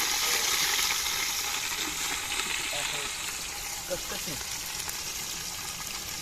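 Curry leaves hitting hot oil in a pan at a beach picnic cook-up, giving a loud, steady frying sizzle throughout, with people talking nearby.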